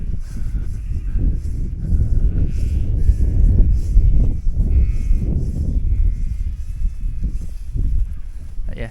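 Sheep in a flock on an Australian sheep farm bleat several times, their wavering calls rising over a constant low rumble of movement and background noise, fairly close.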